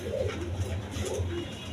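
Red checker pigeons cooing, a low, throaty, repeated coo close by, steady and moderately loud with no talk.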